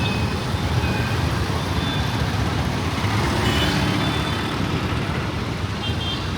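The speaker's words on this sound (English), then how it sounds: "And now there's loads of traffic." Dense road traffic in Hyderabad, India, a steady roar of cars, trucks and buses close by, with engine rumble and distant horns or beeps running unbroken throughout.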